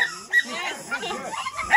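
A six-month-old rescued puppy whimpers and yips in short, high, wavering cries, close and fairly loud, with brief breaks between the whines.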